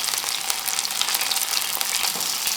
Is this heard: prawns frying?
yes